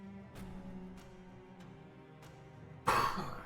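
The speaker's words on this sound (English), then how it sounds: "I had to clear my throat there." A single harsh throat clearing bursts out near the end after a few quiet taps and a low hum, close and fairly loud.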